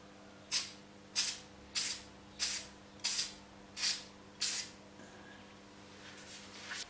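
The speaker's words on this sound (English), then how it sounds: "I've lekker sprayed it a couple of times" Spray paint hisses from an aerosol can held about 30 cm from a wood-turned multicolored ring, seven short, evenly spaced bursts, each sharp and close, with a faint steady hum beneath and no talking.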